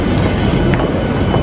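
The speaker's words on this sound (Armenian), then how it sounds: "ժողովուրդ, մենք իջնում ենք մետրո" A metro train rumbles and rattles loudly and steadily at close range near a terminal station, a continuous dense roar with faint clattering.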